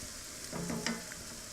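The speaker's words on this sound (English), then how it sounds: "now that we've sauteed the onions in butter with the mushrooms for about 5 minutes" Onions and mushrooms sizzle in butter in a pan, giving a steady close crackle with a few brief scraping stirs in the middle, no voices.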